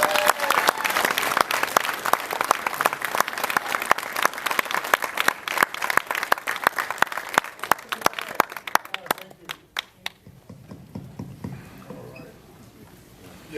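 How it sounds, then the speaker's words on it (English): Enthusiastic applause from an audience at a moderated Q&A with actor Richard Kiel in a Texas cinema; sharp, dense clapping for about nine seconds, then thinning to scattered claps and fading out. "Give him another round of applause"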